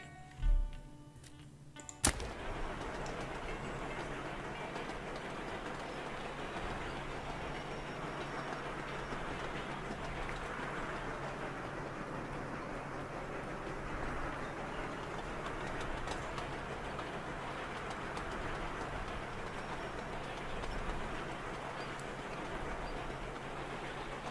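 In the video game Sweet Transit, a train runs along its line as a steady rolling rumble with a faint hum, heard alone after a couple of sharp clicks at the start.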